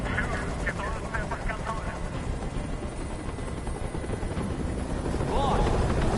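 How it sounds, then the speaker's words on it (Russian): A helicopter thrums with a steady, continuous rotor drone throughout, moderately distant, while people talk over it. "Прикажи им, чтобы вертолет убрался!"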